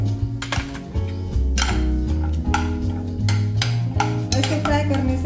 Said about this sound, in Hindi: अब हम बादाम को भी फ्राई करके लेते हैं।